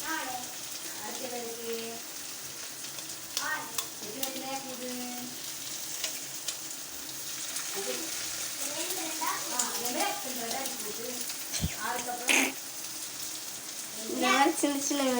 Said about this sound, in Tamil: நாங்கள் இப்போ 3 முட்டையும் உடைச்சி ஊற்றியாச்சு